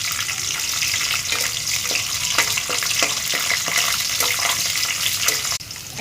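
Garlic and whole garam masala fry in hot oil for a chicken curry, making a loud, continuous crackling sizzle with scattered sharp pops, steady until a sudden drop near the end.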